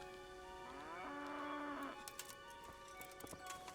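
A cow in Kingdom Come Deliverance lets out a single drawn-out moo, moderately close over a quiet outdoor ambience with faint clicks and footsteps afterward.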